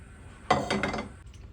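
A frying pan set down on a gas stove with the flame on low, giving a sharp metallic clink and brief clattering rattle, close and alone.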